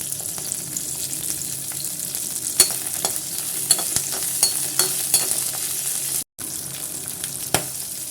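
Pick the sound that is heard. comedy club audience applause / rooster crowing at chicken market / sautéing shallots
sautéing shallots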